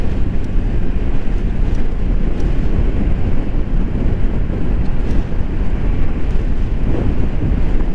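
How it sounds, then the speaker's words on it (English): Wind buffets and roars steadily inside a motorcycle helmet while riding a Honda Navi, a loud, continuous rushing noise with no talking. "It's getting some wind inside."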